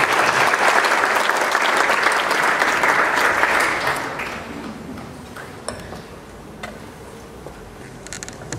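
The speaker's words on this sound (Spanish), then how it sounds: "Venga el aplauso para ella" An audience applauds a woman about to recite the poem "Canción mixteca": dense, loud clapping for about four seconds that then thins out into scattered, fading claps.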